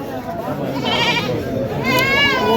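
Goats bleating amid a busy, sunny goat market in Bhaluka, Mymensingh, where local breed goats are being sold; the bleats rise over a dense crowd murmur, with people talking throughout.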